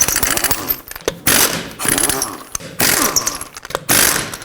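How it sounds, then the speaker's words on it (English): An impact wrench with a 21mm socket zips lug nuts off a wheel of a 2012-2017 Toyota Camry, in loud close rattling bursts of about a second each, four of them separated by short pauses; no talking. "Now continue with your impact or tool of choice. 21mm socket, remove all the rest of your lug nuts."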